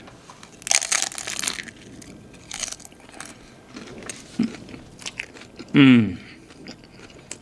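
Close, loud crunchy bites into gluten-free black drum fish tacos, a few separate crisp crunches followed by chewing, with a brief appreciative murmur from the eater.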